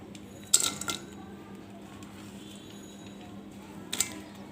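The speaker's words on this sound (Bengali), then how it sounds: "এখন আমি সামনে একটা কড়াই নিয়ে নিচ্ছি" A metal kadai wok is set down on a kitchen stove, making two brief, faint clanks a few seconds apart over quiet room noise.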